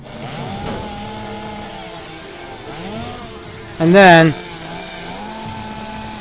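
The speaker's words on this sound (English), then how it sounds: "Hitomi swung her chainsaw up" A chainsaw in a visual novel video game, a short loud revving burst about two-thirds through, rising in pitch, over steady background music and a voice speaking.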